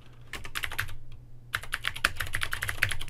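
Rapid typing on a computer keyboard while correcting text in Microsoft Word, a close, steady clatter of keystrokes with a brief pause midway before the tapping resumes.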